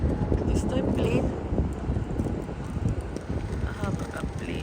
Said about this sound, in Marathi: वारा खूप आहे, खूप म्हणजे खूप वारा आहे.